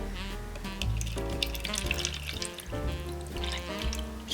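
Tap water runs steadily into a glass jar being filled almost to the top for a Dollar Tree DIY snow globe, a continuous close splashing rush with a tonal, rising ring as the jar fills.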